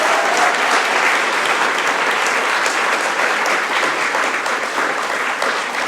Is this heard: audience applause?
yes